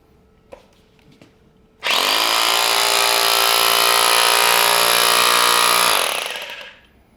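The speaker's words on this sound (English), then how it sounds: "I'll be chipping on a block of wood so I don't damage the concrete" A small electric chipping hammer works against a block of wood resting on concrete, a loud, close, continuous buzzing hammer roar lasting about four seconds before winding down, preceded by a couple of faint clicks.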